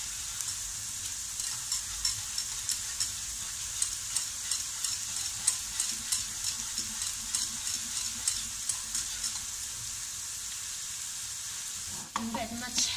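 Hot milk with cheese melting being stirred in a pan, a faint steady sizzle with soft rhythmic scraping strokes repeating, ending in a brief clatter.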